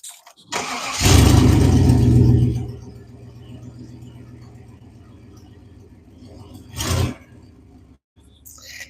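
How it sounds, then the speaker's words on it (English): A van with a damaged exhaust cranks and roars to life loudly with a rough, rattly exhaust, settles into a grumbling idle, then revs briefly again. "my van's loud right now"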